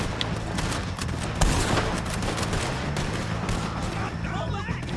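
Gunfire during a shootout with police in Red Dead Redemption 2, with scattered shots and bursts under game ambience and occasional talk.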